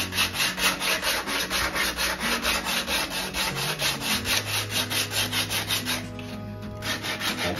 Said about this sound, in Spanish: esto habrá que pasarle un poquito con papel de lija